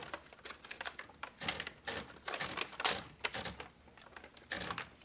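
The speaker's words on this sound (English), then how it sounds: "you type some letters on it" Typewriter keys strike paper in irregular clusters of crisp mechanical clacks, quiet and close, with short pauses between bursts of typing.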